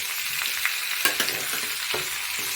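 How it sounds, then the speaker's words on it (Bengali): Chopped garlic, green chili and tomato fry in a pan with a steady soft sizzle, broken by a few light scrapes and clinks of a spoon stirring, with no talking. "এবার এই টমেটোটা দিয়ে এবার এটা নাড়ছি"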